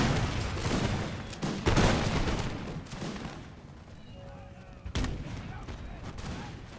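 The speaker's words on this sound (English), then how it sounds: "And grenadiers, fire at will." Grenadiers fire musket volleys at will in a Napoleonic-era battle game, loud ragged bursts of gunfire crackling repeatedly at close range, easing off in the middle and then surging again, with faint battlefield din underneath.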